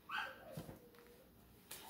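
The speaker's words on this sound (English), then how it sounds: "I apologize about the dogs barking." A single faint dog bark rings out, followed by a brief whimpering yip, quiet and somewhat distant.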